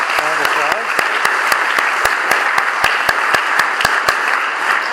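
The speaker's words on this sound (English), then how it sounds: "Please give them a round of applause." An audience claps in sustained applause, dense and even throughout, with sharp individual claps standing out near the front.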